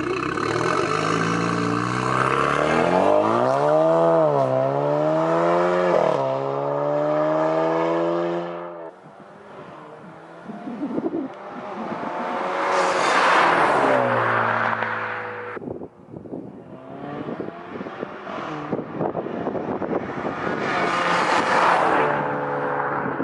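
A loud, raw Alfa Romeo Giulia engine, straight-piped and catless, revs hard, climbing and dropping in pitch through gear changes as it pulls away and drives on the street, rasping and crackling throughout.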